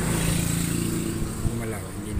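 Motorcycle on a road, a moderate engine drone passing close by under people talking.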